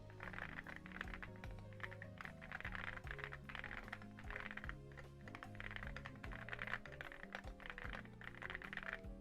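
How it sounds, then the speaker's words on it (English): Rapid, steady clacking of keys on a computer keyboard, typed continuously up close with music playing underneath. "Want to hear my new keyboard?"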